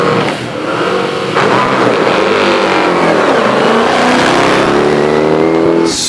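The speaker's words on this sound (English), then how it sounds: "Sound and fury on the start line now. This is Roger Dean's massive 5 litre Lola Chevrolet T142." Roger Dean's 5-litre Lola Chevrolet T142 Formula 5000 race car launching hard off the start line at the Shelsley Walsh hillclimb, a loud, close V8 roar climbing steeply in pitch as it accelerates away.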